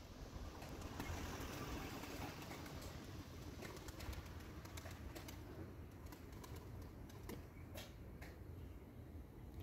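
Turkish tumbler pigeons flying with wings flapping, heard as faint, rapid clattering bursts over a dense outdoor background of rustle and low rumble.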